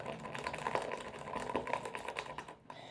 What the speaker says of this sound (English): And then just stir it